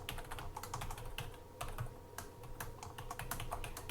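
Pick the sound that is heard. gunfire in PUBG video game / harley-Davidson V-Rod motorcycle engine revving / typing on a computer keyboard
typing on a computer keyboard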